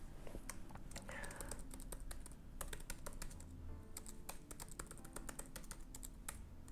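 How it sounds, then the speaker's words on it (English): Someone types continuously on a computer keyboard while copying out The Great Gatsby, producing dense, rapid, irregular key clicks that are close and quiet throughout. "let's start typing"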